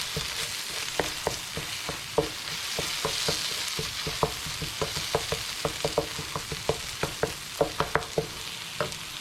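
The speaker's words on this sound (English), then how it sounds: "my sambal mixture there has been cooking in that wok probably for about 15 minutes" Spicy homemade sambal frying in a wok, a dense continuous sizzle under a rapid series of sharp spatula clacks against the metal, close and loud with no talking.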